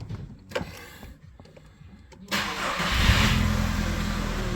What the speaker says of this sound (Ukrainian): 131 група і заводимо автомобіль